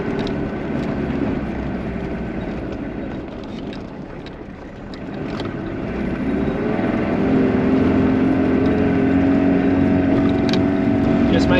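A 4WD climbs steeply out of a bush campsite in second gear low range, its engine droning steadily and building in load and pitch toward the end, with wind buffeting throughout.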